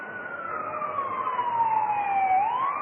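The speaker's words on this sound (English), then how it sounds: "And you can hear the sirens." An ambulance siren wails, sweeping down slowly in pitch then rising again, loud and steady over low traffic rumble near a baseball game, no voices.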